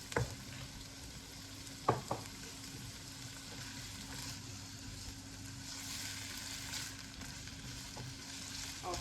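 King prawns fry for king prawn fried rice, a steady low sizzle that holds through the stretch with a few sharp utensil knocks near the start. No one speaks.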